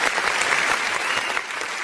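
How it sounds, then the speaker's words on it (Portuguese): Studio applause for a birthday on a talk show, a dense, continuous patter of many hands clapping close and loud, with no talk over it. "dá uma salva de palmas"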